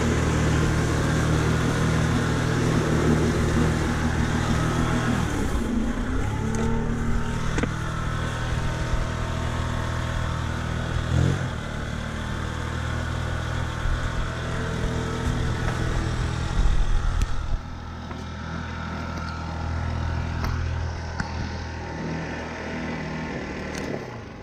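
An old moped engine runs steadily while riding through a village, a continuous nearby motor drone with slight shifts in pitch and a brief change in load near the end, with no talk.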